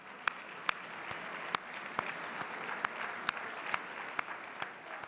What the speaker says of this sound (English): stand so that we can applaud them and recognize them